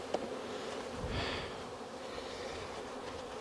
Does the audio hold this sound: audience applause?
no